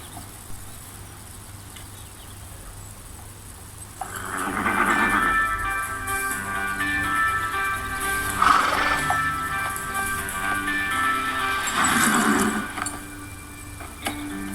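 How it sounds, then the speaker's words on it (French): Horses and ponies neigh and whinny in several loud calls, with hooves clip-clopping beneath, after a quieter opening of low background noise. "Voilà une vidéo avec des chevaux et des poneys."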